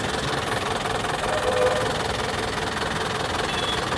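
Close up at the engine of an Eicher Pro 1055 pickup, the motor idles in a constant, dense rumble with light rhythmic knocking, unbroken for the whole stretch.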